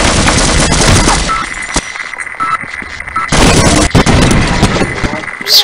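Turret gunfire in Half-Life, loud dense bursts of rapid automatic shots with two sustained barrages separated by a brief lull, close and harsh throughout.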